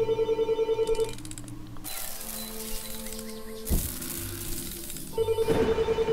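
A telephone rings in the Fran Bow video game, with rapid repeating bursts of ringing at the start and again at the end and a dark, droning ambient bed between them.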